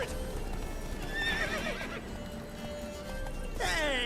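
Geralt's horse galloping and neighing in The Witcher 3, a drumming hoof rhythm under loud whinnies near the start and end, set against a sustained game-score drone.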